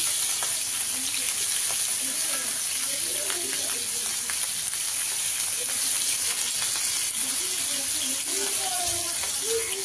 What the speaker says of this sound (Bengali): এখানে আমি মাছ ভাজা বসাই দিছি। ছিটতেছে।